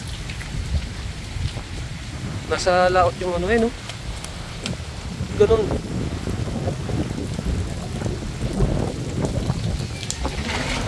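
Heavy typhoon rain pours down with rumbling thunder at sea, a dense continuous roar of water and low booms, with people talking briefly over the storm.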